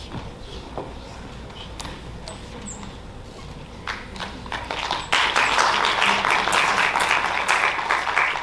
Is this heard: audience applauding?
yes